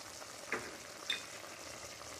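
Stewed beef tips sizzling gently in a pot, with a couple of faint spoon scrapes against the side and a low, steady frying hiss, quiet and close.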